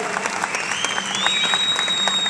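Steady audience applause fills a business talk hall, a dense continuous wash of many hands clapping that swells slightly louder partway through, with no speech over it.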